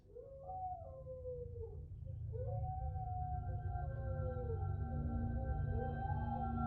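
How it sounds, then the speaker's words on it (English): Dogs howl outside in long, wavering, rising and falling cries that overlap one another over a low steady drone. The howling grows somewhat louder partway through. "Those dogs out there, Hayley, they're not real."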